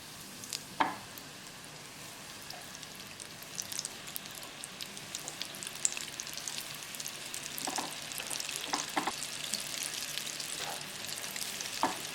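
Flour-coated fish pieces deep frying in a small fryer, a steady soft bubbling sizzle with occasional sharper pops and crackles, fairly quiet and close, with no talking.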